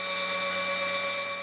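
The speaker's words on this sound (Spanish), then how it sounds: "se extrae una muestra de polvo con un taladro" Steady high-pitched whine of a drill boring into a 3000-year-old stalagmite to extract a powder sample, with sharp tonal lines held constant and close throughout, no voices.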